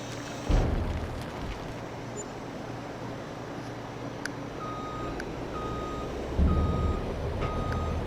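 Trucks reverse in a video game, with a regular electronic backup beep repeating over a constant heavy engine rumble and a couple of low thuds.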